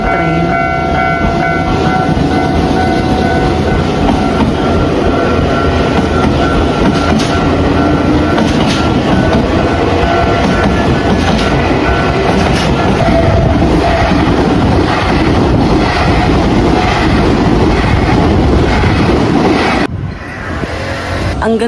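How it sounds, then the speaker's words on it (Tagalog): A train rolls past a closed level-crossing gate in Japan, a loud, steady roar with faint clickety-clack running for about twenty seconds before it cuts away, with no talk over it. "merong parating na train mga kigwahers. So, close pa yung gate ng train."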